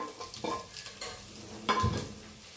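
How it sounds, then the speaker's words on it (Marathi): Crushed coconut, ginger and garlic drop into a pan of frying green chili vegetable dish, giving a soft thud and a brief surge of sizzling over steady quiet frying and stirring close by. "आणि हे खोबरं अद्रक लसूण हे कुटलेलं हे टाकू"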